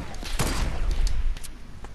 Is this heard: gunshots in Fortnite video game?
yes